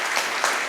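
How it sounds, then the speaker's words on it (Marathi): A crowd at a community prize-distribution function in Aurangabad claps for an honoured guest, a steady burst of applause lasting under a second. "सरांसाठी एकदा आपण जोरदार टाळ्या वाजवू"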